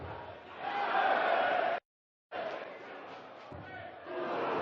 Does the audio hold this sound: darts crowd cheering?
yes